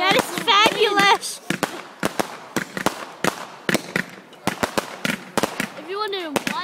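Bucket fireworks at a home display crackle and pop in a rapid run of sharp bursts, some overlapping, with excited voices talking over the barrage.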